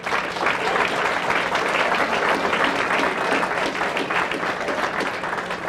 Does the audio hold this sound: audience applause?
yes